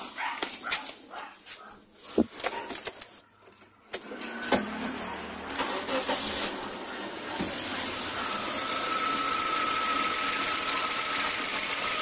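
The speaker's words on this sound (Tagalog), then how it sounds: "Start ko na yung makina para pakita ko sa inyo." A car engine cranks and starts during a fuel pressure test, then settles into a steady idle that grows louder, with a dog barking in the background and sharp clicks and knocks early on.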